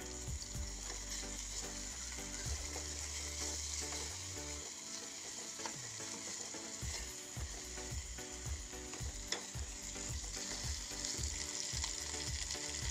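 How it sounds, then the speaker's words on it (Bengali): Small pieces of chapa fish frying in spice paste with garlic, a loud continuous sizzle and crackle in a pan, broken by repeated stirring scrapes in a loose rhythm. "মশলাটি একটু নেড়েচেড়ে করে দিয়ে দেব ছোট ছোট করে কেটে রাখা মাছের পিসগুলো।"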